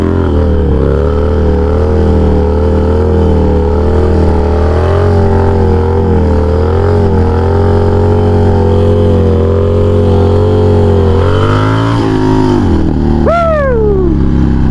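A Harley-Davidson Sportster motorcycle engine roars loud and close during a wheelie, a sustained throaty drone that wavers in pitch, then drops off sharply near the end with a brief high squeal.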